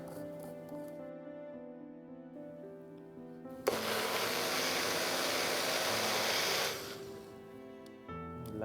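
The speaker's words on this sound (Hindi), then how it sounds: "तो सब चीज़ों को थोड़ा सा और पानी डाल के और फिर ग्राइंड करते हैं।" A mixer grinder blending spice masala paste with water for Andhra-style mushroom switches on after a quiet stretch, whirring loudly and evenly for about three seconds before cutting off.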